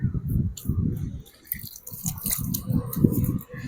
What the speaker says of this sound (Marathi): थोडं तोंड धुतो